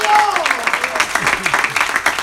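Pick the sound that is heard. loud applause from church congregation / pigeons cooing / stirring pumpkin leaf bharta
loud applause from church congregation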